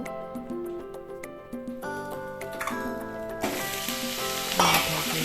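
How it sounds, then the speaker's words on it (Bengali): Prawns fry in hot oil with a continuous close sizzle that swells louder partway through, while music plays underneath and bright crackles spit over it. "সো চিংড়িগুলোকে আগে ভেজে নিচ্ছি।"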